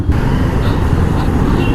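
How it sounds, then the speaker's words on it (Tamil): Dense road traffic in Pondicherry heard from a motorbike ride: a steady, loud low rumble of cars, buses and trucks with engine drone continuous throughout, no clear voices. "சரியான டிராஃபிக்கில் வந்து மாட்டிட்டோங்க"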